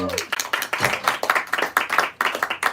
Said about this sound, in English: give him a hand clap first